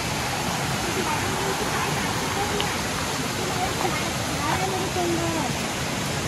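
A monsoon-fed forest stream in the green Konkan countryside rushes steadily and close, a dense, unbroken wash of flowing water that runs through the whole stretch with no pause.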